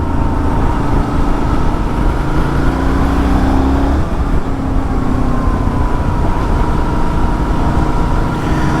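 A Benelli Leoncino Trail 800 scrambler motorcycle engine pulls hard and loud, a continuous close-up roar with rising revs and wind rush throughout.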